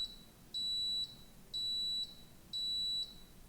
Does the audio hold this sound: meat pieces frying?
no